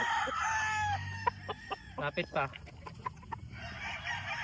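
Chickens cluck and crow close by in a series of short, sharp calls, with a brief spoken remark mixed in.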